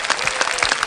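A studio audience gives a short burst of applause for a young singer on a children's singing competition, with several distinct claps standing out in quick, uneven succession.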